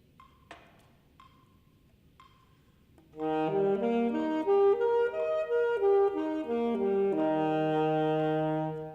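Three soft metronome ticks at 60 beats per minute, then a saxophone plays a slow major scale of held notes rising and falling, clear and close.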